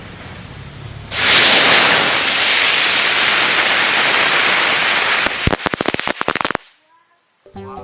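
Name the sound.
lotus flower firecracker exploding on a raw egg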